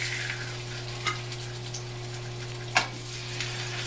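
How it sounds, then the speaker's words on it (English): Lollipop lamb chops go into a hot cast iron pan and sizzle softly and steadily, with a few brief sharper crackles over a low electrical hum. No one speaks. "our cast iron pan is probably getting pretty warm. So we're going to start popping these in here."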